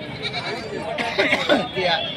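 A goat bleats a few times at a busy livestock market in Vasmat, its cries fairly close and mixed into steady crowd chatter and people talking.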